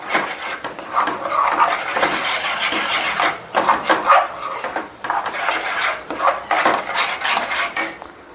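Red chilli powder and spices are mixed into mushroom curry in a pan, with loud, busy metal scraping and clinking of a spoon against the pan in irregular bursts, close by.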